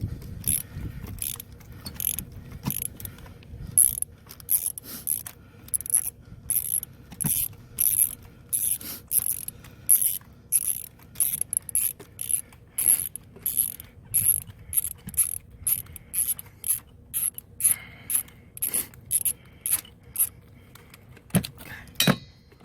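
A ratchet on a 3-inch extension backing out a spark plug on an Acura TL, fast rhythmic clicking bursts repeating close up for over twenty seconds, with brief pauses between strokes.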